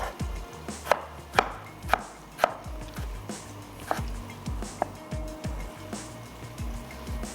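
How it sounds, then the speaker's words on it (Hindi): Two tomatoes are roughly chopped with a knife on a board, producing sharp, close knife strikes at an uneven, unhurried pace, some louder than others, with no voices. "हम यहाँ पर क्या करते हैं कि टमाटरों को चॉप कर लेते हैं।"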